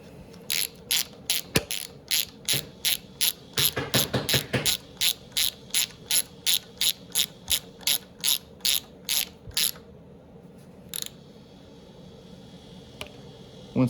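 A ratchet wrench tightening an ignition coil bolt clicks in a steady, even rhythm of about two dozen strokes, close and distinct, then stops, leaving low background noise.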